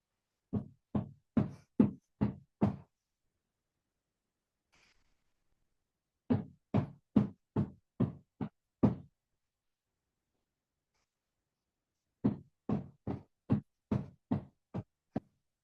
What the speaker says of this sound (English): When I do my hand slams, I do palms facing down